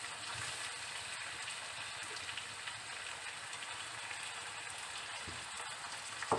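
Beef mince cooked down in ginger-garlic paste sizzles steadily as tomatoes go into the pan, a continuous close frying hiss with faint clinks and no talking.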